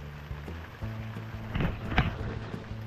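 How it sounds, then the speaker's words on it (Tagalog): Heavy rain hisses steadily while a low, faint motor hum drones underneath and a few louder splashes stand out. "Lumakas ng ulan."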